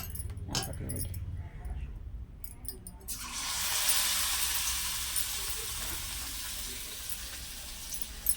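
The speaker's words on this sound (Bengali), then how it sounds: "তেলটা গরম হওয়া অবধি আমি অপেক্ষা করছি। তো গরম আমার হয়ে গেছে, তো আমি এখন ছাড়ছি।" Stuffed bitter gourd (kakroler pur) dropped into hot oil bursts into a steady close sizzle after a few soft clinks, frying on continuously to the end.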